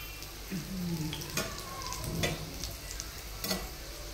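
Aluvadi, the crisp colocasia-leaf rolls, sizzling and frying in a pan, with a steady close hiss and a few brief clatters as pieces are turned over.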